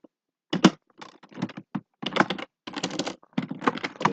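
Keys on a computer keyboard clatter in irregular bursts while code is entered, close and clear with short pauses between runs of keystrokes.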